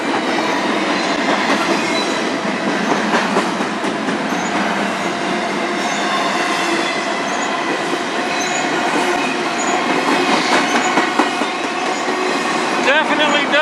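A freight train hauling empty intermodal cars rolls past on the Strathroy Subdivision, a loud, steady close-up roar of rattling wheels and squealing flanges, with a voice speaking briefly.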